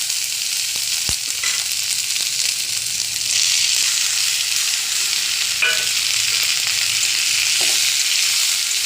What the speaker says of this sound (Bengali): এবার আজিনামোটো দিলাম, নেড়ে চেড়ে সবজিগুলো দিয়ে দেবো।